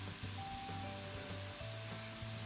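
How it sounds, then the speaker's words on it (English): Chicken pieces fry in oil in a pan, giving a steady, close hiss and crackle of sizzling that runs without pause, with no talk. "we will put on the pan that have some oil and then cook it just until it's golden brown"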